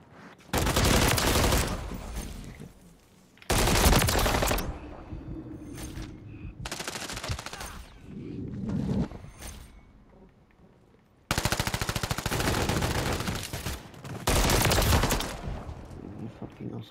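Machine gun fire in Call of Duty MWIII during a team deathmatch on Crown Raceway, with long, loud sustained bursts separated by short pauses and quieter stretches of game sound.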